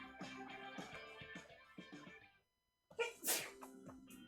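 A single sharp human sneeze bursts out after a short pause. Music plays beforehand, and nobody speaks.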